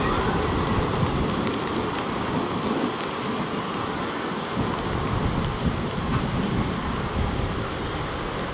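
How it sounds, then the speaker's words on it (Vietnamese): Steady rain falls at an airport as a plane lands on runway 25R at Tan Son Nhat, a dense continuous hiss and patter of rainfall that stays even and fairly loud throughout, with no talking. "điều kiện thời tiết mưa như thế này"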